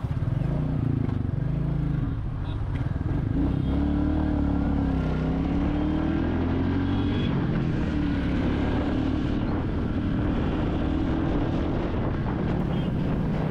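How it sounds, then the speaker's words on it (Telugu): Royal Enfield Classic 350 motorcycle exhaust while riding, a steady low engine drone heard beneath heavy, continuous wind buffeting from the motion. "అలాగే ఎగ్జాస్ట్ అయితే చాలా తంబీగా స్ట్రాంగ్గా ఉంటుంది. దీంట్లో ఒక అట్రాక్షన్ అన్నమాట క్లాసిక్ 350లో ఎగ్జాస్ట్."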